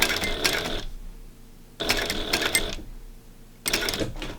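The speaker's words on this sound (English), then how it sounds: "we will go ahead and sew all around at 1/8 inch seam allowance" Sewing machine stitching around the edge of a fabric cover, heard in three bursts of fast mechanical chatter separated by short pauses, close and fairly loud.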